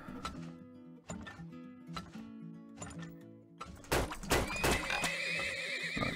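Horses in the video game Turmoil whinny repeatedly in a rhythmic series, with hoof clip-clops, then a louder burst of game noise and a sliding tone takes over near the end.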